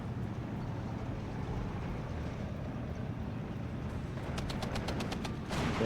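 Faint rapid tank machine-gun fire from a Sherman in the WWII strategy game Steel Division 2, a short rattling burst near the end over a steady low engine rumble.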